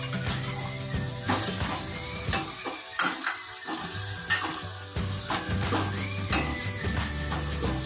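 Chopped tomatoes tipped into onions already browning in oil for bhaji, a bright continuous sizzle with a few stirring scrapes and utensil knocks against the pan, close and steady.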